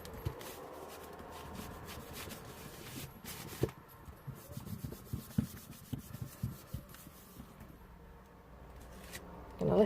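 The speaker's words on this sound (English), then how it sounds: "Give it a good rub." Paper rubbed down by hand onto an alcohol lift-ink craft piece, quiet irregular scrubbing and rustling strokes up close, with a clunk at the end.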